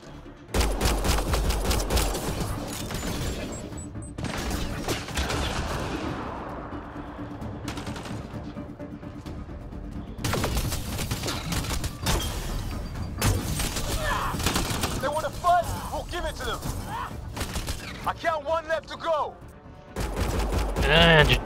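Gunfire in the video game Mass Effect Andromeda, repeated bursts and volleys of shots mixed with game voices and effects, loud and close.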